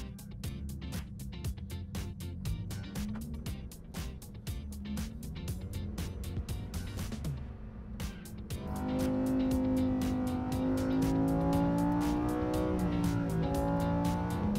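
A Lamborghini Huracán STO, a lightweight track-focused supercar, drives and accelerates hard: a dense, buzzing engine note that rises in pitch and then swells louder into a sustained high rev, heard from inside the car with no talking.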